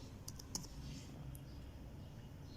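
A few quick keyboard key clicks sound near the start of a computer setup session on a Windows 11 install, followed by a quiet room hum.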